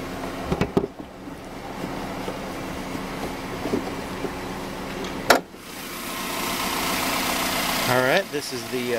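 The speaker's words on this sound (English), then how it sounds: "This is the four-cylinder engine here" A 2015 Chevrolet Colorado's four-cylinder engine with VVT idles with a steady low rumble, with a sharp thump near the middle, a brief hiss and rising noise toward the end.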